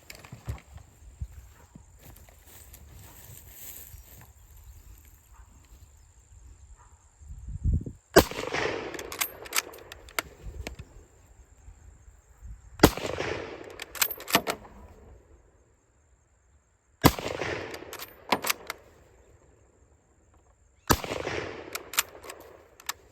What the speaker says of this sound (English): So that's 5 shots out of the Arisaka.